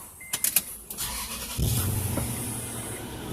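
A 2006 Toyota Tundra TRD Limited 4x4 starts up: a few sharp clicks and a short electric whir, then the engine cranks and catches into a steady, close idle that continues to the end, with no talking.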